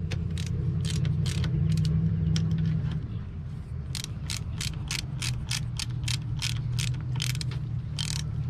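A hand ratchet torques a bolt on a Mercury outboard thermostat housing, clicking in a fast, steady run of sharp metallic ticks, close and clear, over a low mechanical hum with no talk.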